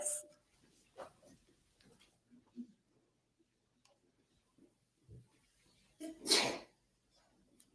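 A single sharp sneeze bursts out in a quiet courtroom near the end, preceded by faint shuffles, small knocks and soft breaths, with a brief earlier puff of noise at the start.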